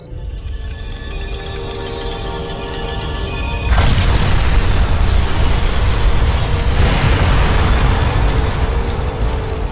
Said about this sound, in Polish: Dość pokaźny wybuch.